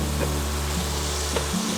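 Bacon frying in a pan for fried cabbage, a continuous loud sizzle with a low steady hum that cuts off abruptly near the end.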